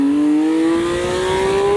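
A Porsche 911 GT3 engine revving loud and close, its howling pitch climbing steadily through a rising, screaming pull with no talking over it.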